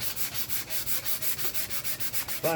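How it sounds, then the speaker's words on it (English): Light hand sanding of a J Bass guitar body to smooth small imperfections, a steady back-and-forth rasp of about a dozen even strokes, close and alone, ending in a brief bump. "we gotta sand this down a little bit. Real light sand, just any little imperfections."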